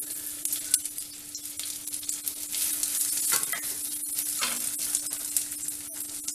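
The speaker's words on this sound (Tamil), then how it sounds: "நல்லா வெங்காயம் பூண்டு வதங்கட்டும்." Onion, garlic and cumin sizzle steadily in hot oil, a continuous crackling fry with occasional stirring scrapes and a faint low hum.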